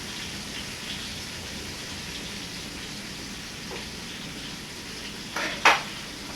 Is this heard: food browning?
yes